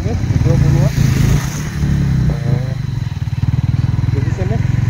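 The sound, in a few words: motorcycle being parked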